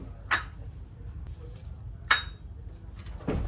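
Sliced potato and nuts being mixed in a bowl for a ripe mango dish, giving three brief, fairly close clinks of utensil against the bowl spaced apart over low kitchen background noise.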